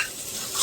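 Prawn pulao is stirred in a pan, giving a brief, close scrape under a soft sizzle.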